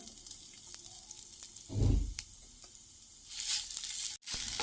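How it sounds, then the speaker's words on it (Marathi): Ginger and garlic fry in a little oil, giving a close sizzling hiss with a brief louder burst of frying and a swell of crackle near the end, broken by one abrupt cut. "थोडंसं तेल टाकून घेऊन अद्रक आणि लसूण आपण फ्राय करून घेऊ"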